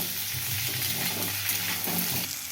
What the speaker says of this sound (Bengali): আমি আলুগুলো খুব ভালো করে ভেজে নেব